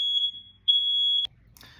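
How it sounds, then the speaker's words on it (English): A fire alarm going off indoors, two long piercing electronic beeps separated by a short gap, loud and alone, followed by a faint clatter. "the fire alarm went off"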